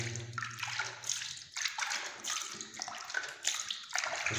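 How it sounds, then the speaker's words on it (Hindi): Water poured into a container of wall paint mix for house painting, irregular splashing gushes coming in short bursts with brief pauses, close and moderately quiet. "अब इसमें पानी डालेंगे हम।"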